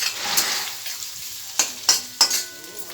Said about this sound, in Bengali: এবার পেঁয়াজটা আমি এবার লেড়ে নেবো